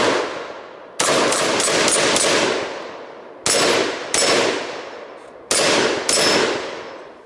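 Mil-spec M193 rifle rounds striking rifle-rated human-silhouette steel target plates at close range: three loud bursts of sharp cracks, each followed by ringing metallic decay, alone with no talk.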